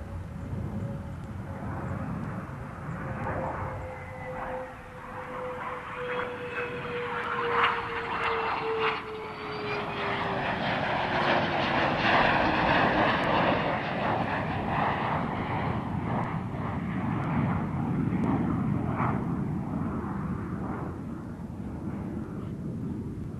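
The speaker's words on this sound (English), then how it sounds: "Endeavour rolling out in California" Space Shuttle Endeavour rolling out on the runway after landing in California at the end of mission STS-100: a steady, loud roar of aircraft engine noise with a gliding whine that falls slowly, swelling over the second half and continuing throughout.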